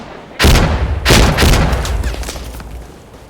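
Gunfire in the tactical shooter game Insurgency: Sandstorm, with two loud, booming broadband shots about half a second apart, followed by a long, rumbling, fading tail with no speech over it.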